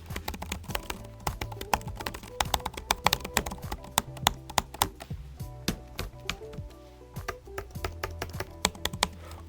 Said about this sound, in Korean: 마이크로소프트 디자이너 컴팩트 키보드 굉장히 타건감이 좋네요.